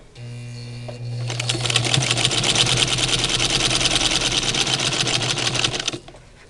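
A sewing machine stitches through a five-layer fabric face mask. A low hum starts first, then the fast, steady, loud mechanical whir of the needle runs for about five seconds and stops abruptly.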